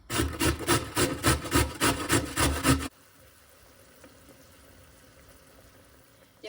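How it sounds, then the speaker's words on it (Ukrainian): A carrot is rubbed over a hand grater in quick, even rhythmic strokes, loud and close for about three seconds before stopping, then only faint background sizzle remains. "А поки на цю терочку натремо морковку"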